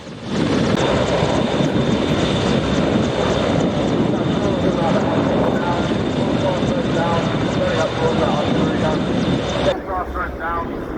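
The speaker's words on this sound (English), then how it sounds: "the starting gun crew being dropped in by helicopter" Loud, continuous rotor and engine roar of a helicopter dropping in the starting gun crew at the Ten Tors 2024 event fills the scene close by, with a voice speaking underneath; the noise drops slightly near the end.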